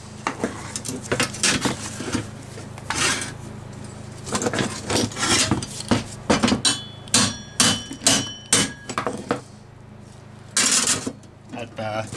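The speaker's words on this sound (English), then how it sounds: "It really wasn't a suitable hammer that though, was it really?" Metal hammering while fabricating an LT77 gearbox mount for a Rover P6 V8: irregular sharp blows, then a quick run of rapid strikes, close and loud, with a person talking in between.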